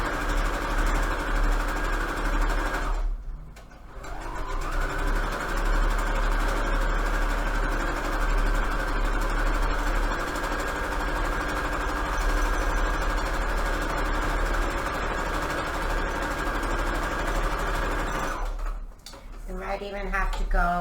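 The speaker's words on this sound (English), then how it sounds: "I'm using a straight stitch, and we're using default settings. Just kind of sew all the way across." Sewing machine running a straight stitch across Christmas fabric for a junk journal cover, a steady whirring motor drone with two brief pauses where it stops and restarts, close and fairly loud.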